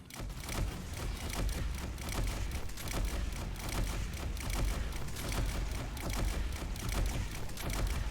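Rapid, continuous primary-weapon fire in Destiny during an Oryx Exalted raid boss fight, a dense crackling stream of shots with low booms underneath, steady and loud throughout.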